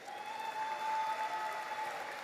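A ceremony audience at a VFW awards event applauds steadily, a dense, even wash of many hands clapping at a fairly distant, moderate level, holding without pause for the whole stretch with no voices on top.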